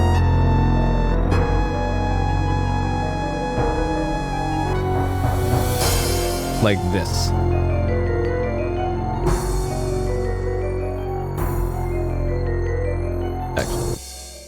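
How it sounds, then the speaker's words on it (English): MT-32 game music for a Quest for Glory adventure plays through an SC-55 synth: a steady, full synthesized soundtrack with sustained tones, layered parts and periodic bright percussive hits, loud and continuous from start to finish. "if you want to hear what this sounds like, MT32 sound going through an SC55"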